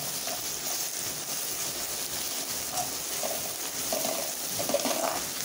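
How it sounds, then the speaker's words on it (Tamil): Curry leaves and onions sautéing in a pan for prawn thokku: a steady soft sizzle with faint stirring scrapes, quiet and continuous. "கருவேப்பிலை போட்டு வதக்கணும்."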